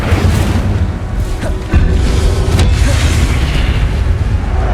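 Incendio fire spell in the Hogwarts Legacy video game, a loud rumbling blast with a sharp burst near the middle over a continuous roaring, crackling fire texture.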